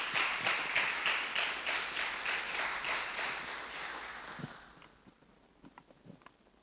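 A church congregation applauds together, a dense wash of many hands clapping in a steady pulsing rhythm that gradually fades out, leaving a few scattered claps and taps at the end.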